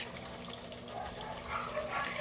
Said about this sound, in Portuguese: Meu Deus, que os cachorros estão bem loucos.